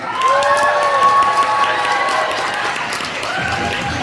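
An audience applauds and cheers at a children's class stage performance, steady clapping mixed with excited children's voices, while a bright sustained melodic tone rings over the crowd.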